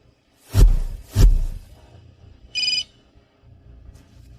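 A short electronic mobile phone ring tone chirps once in a high burst after two heavy low thuds, fairly clear and close in an otherwise quiet scene.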